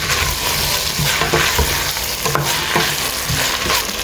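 Peas and potatoes being stirred in a pan over a high flame, a steady loud sizzle with repeated scraping stir strokes, close up and alone without talk.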